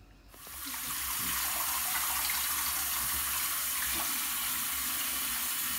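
Water runs steadily from a tap, a continuous close, even rushing splash that rises within the first second and holds without a break, with no talking over it.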